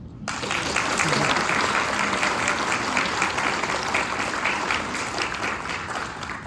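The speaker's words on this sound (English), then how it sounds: "Next, I want to take a moment for a round of applause for Amber." Audience of parents and friends applauding at a high school graduation ceremony, a full continuous roar of clapping hands that holds steady for several seconds with a faint voice mixed underneath.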